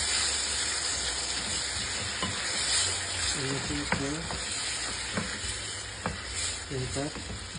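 Dried fish being stirred in a pan of sweet and sour sauce, a steady sizzle and frying hiss with soft scraping stirs and a few clinks of the utensil against the pan, close and continuous.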